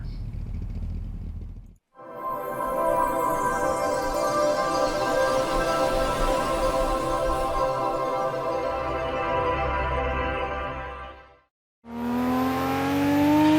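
A Nissan Skyline GT-R R34 on street tyres laps the Nordschleife in Assetto Corsa, its engine revving hard and climbing through the gears with brief cuts at each shift, loud and continuous with no talk.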